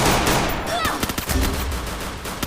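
Gunfire in an online shooter game: rapid, loud bursts of shots over dense game noise and background sound, fairly close.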